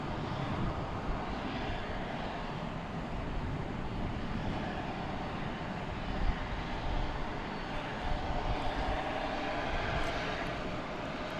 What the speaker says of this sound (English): American 2177 from the city adjacent to the bay, San Francisco.